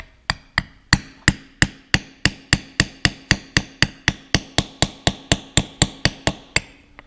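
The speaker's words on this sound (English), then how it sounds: "I will just take the hammer and the selected socket I got and put things in place here" Steady metallic hammer blows on a socket seating a transmission seal on a John Deere 318 tractor, about twenty-five evenly spaced sharp strikes ringing close and loud with no talking.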